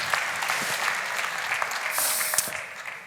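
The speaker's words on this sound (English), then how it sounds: "I think that merits an applause in and of itself." Steady audience applause filling a conference hall at a finance conference, dense and continuous clapping at moderate loudness with no talking over it.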